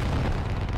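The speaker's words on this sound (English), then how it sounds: "More smoke rounds hit." A smoke round bursts in the military shooter game Squad: a loud, heavy boom that fills the whole moment with a deep rumbling blast and no pause.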